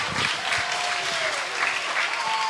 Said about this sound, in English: he is applauded by the crowd